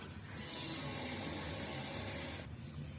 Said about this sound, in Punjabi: ਬਸ ਅੱਗ ਮੱਚ ਗਈ